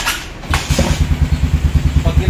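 Honda 155 motorcycle engine revving during a clutch test after a clutch cable replacement, a brief rev then a rapid, loud, steady pulsing idle close by, with someone talking at the start.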